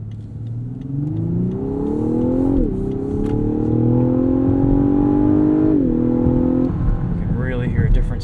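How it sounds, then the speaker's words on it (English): A 2018 Lexus LS 500 AWD engine revs up in Sport Plus mode through rising gears, its tone climbing steadily with brief dips at shifts, loud and continuous from inside the cabin. "You can really hear a difference in engine tone once you throw it into Sport Plus."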